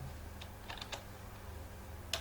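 Sparse keystrokes tap on a computer keyboard, a few faint irregular clicks over a steady low room hum, ending with one sharper click, and no speech.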